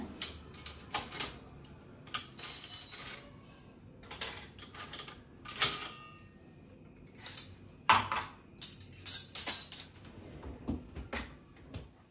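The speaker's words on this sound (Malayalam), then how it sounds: "പാത്രങ്ങളും സ്പൂണും കാര്യങ്ങളൊക്കെ ഉണ്ടായിരുന്നു അതെല്ലാം ഒന്ന് അതിൻ്റെതായ സ്ഥാനത്തേക്കൊന്ന് എടുത്ത് വെക്കട്ടെ" Kitchen dishes and spoons clink and clatter in scattered bursts as they are set down and put away after washing, with quiet pauses between the handling sounds.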